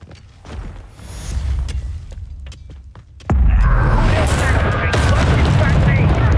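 Hogwarts Legacy combat spells Confringo and Bombarda, a run of sharp blasts and thuds, then a sudden loud sustained explosive roar with crackling debris, close and dense.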